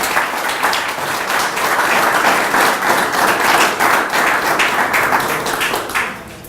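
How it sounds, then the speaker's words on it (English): An audience at a county arts achievement presentation applauds steadily, a dense, loud wash of many hands clapping that holds for several seconds before tapering off at the end. "Let's please give Lauren a round of applause"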